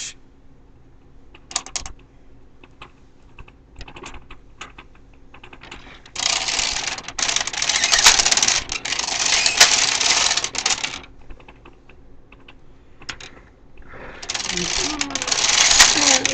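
A knitting machine knits rows of thread for a baby lace front, giving two long, loud whirring carriage passes with rapid mechanical clatter, separated by quieter stretches of scattered clicks and handling.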